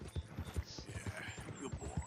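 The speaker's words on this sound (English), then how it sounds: "Este caballo se queja más que el Jack pequeño." A horse trotting in the video game Red Dead Redemption 2, soft rhythmic clip-clop hoofbeats at a steady pace, fairly quiet and close, with no clear snorting.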